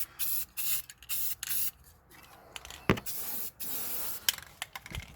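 Spray paint hisses onto a wheel in short, separate bursts, each a second or less, with quiet gaps and a few small knocks between them. No one speaks.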